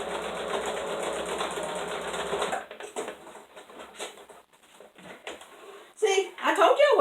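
A sewing machine backstitches a short, small seam on a fabric draft stopper. The motor runs steadily for a couple of seconds and then stops, and a person talks afterward.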